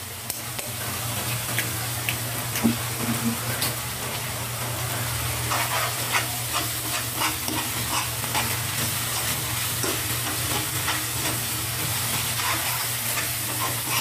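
An egg fries in a pan with pork and shrimp paste, making a constant loud sizzle with crackling spatters and the occasional scrape of stirring.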